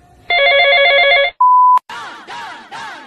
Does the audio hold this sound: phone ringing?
yes